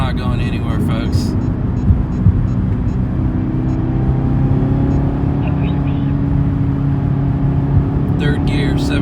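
Chevrolet Camaro ZL1 1LE pulling hard in third gear at around 4,500 RPM, a steady loud engine drone with rising harmonic tones heard from inside the cabin, no pauses.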